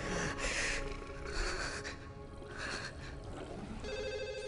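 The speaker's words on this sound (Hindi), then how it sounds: "अरे फोन तो उठा।" A telephone rings in repeated electronic bursts, fairly loud, with some breathy noises mixed in.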